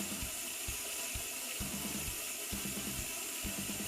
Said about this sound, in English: Cleaning the nozzle is achieved by turning the rear knob straight and lifting the front knob like this.